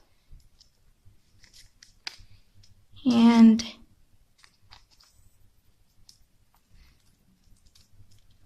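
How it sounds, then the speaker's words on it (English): Faint, scattered snips of scissors cutting a paper heart shape for an origami gift bag in a quiet room, with a brief spoken word partway through. "And then grab your scissors"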